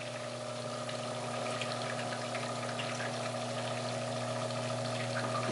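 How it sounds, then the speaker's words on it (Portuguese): An Enxuta automatic dishwasher drains water in a steady, continuous rush, with a constant low motor hum underneath. No one talks over it. "a máquina, deixa eu ver aqui, ela tá soltando água"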